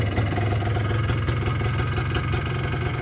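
A 2000 Polaris Xplorer 250 4x4 ATV with an old two-stroke engine idles steadily just after starting. The rough, buzzing run is close and continuous, and no one speaks over it.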